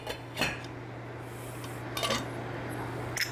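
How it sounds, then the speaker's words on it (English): A lid set on a pot holding a warm sugar-and-salt mixture on a kitchen stove, with a few light metallic clinks and taps spread over a low steady hum. "So we're going to put the lid on to keep this warm"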